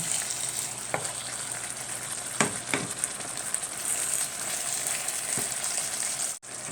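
Pickled bamboo shoots stir-fry in a pan with fish sauce, a steady close sizzle broken by a few scraping stirs of the utensil.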